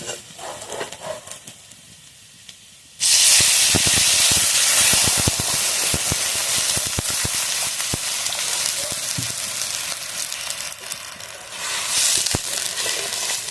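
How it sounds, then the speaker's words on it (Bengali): Water poured onto fried potatoes in a hot pan bursts into a loud, steady hiss and sizzle that carries on alone for about ten seconds, after a few quiet seconds of light kitchen noise. "আলুটা ভালোভাবে ভাজা ভাজা করে নিয়েছি, এবারে আমি জল দিয়ে দেবো"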